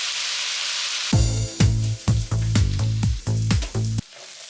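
Celery and green bell pepper cooking in a pan for a vegan jambalaya, with rhythmic bursts of stirring and sizzling repeating about every half second, close and fairly loud, no talk.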